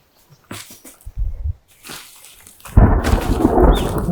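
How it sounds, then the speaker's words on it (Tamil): Thunder rumbles and rain comes down in the survival video game The Forest, starting with scattered low booms before heavy rain suddenly pours in, loud and steady, with no voices. "மழை வேற வருதுங்க"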